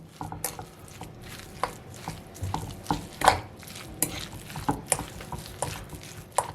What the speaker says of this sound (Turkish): biz şuradan bir adet çatalımızla karıştırıyoruz arkadaşlar